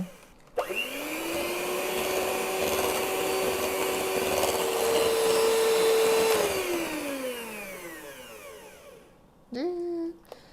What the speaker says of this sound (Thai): เราก็จะมา ใช้เครื่องปั่นนะคะ ตีให้เข้ากัน